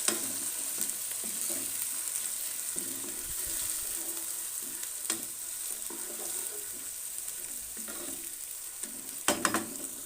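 Finely chopped onions, three to four, frying in a pan for palak gosht, a steady low sizzle with occasional stirring scrapes and a brief louder clatter near the end, no voices.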